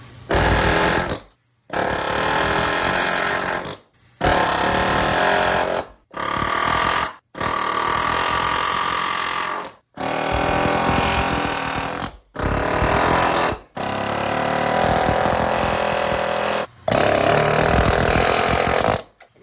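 An air chisel hammers away at parts of a Can-Am X3 side-by-side, loud harsh pneumatic chattering in repeated bursts of one to three seconds separated by short silent breaks.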